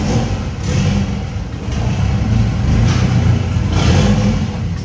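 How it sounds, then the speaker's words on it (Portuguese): Chevette with a turbocharged AP engine revving hard, a loud close roar that swells and eases in waves over a few seconds, no talking. "Acelera, pode acelerar. Acelera, acelera mais."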